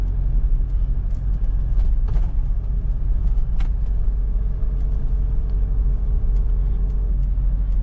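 A car is driven in third gear, its engine giving a steady low rumble from inside the cabin under a constant road drone, with faint clicks and a soft tonal hum partway through and no talk.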